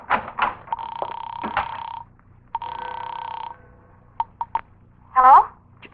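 A telephone bell rings in a 1940s radio suspense drama, sounding in two long, loud bursts separated by a pause, with a few clicks and a short voice at the end.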